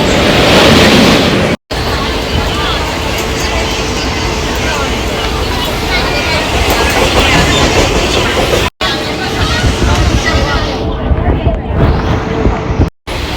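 A Mumbai local train runs loudly on its rails, a continuous close rumble and clatter with a steady whine, broken by brief dropouts near the start and end.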